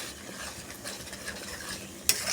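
Egg, potato and methi curry being stirred and sautéed in a pan, a close scraping stir over light sizzling, ending in a sharp utensil clink near the end, no voices.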